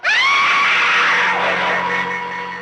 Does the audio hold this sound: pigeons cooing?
no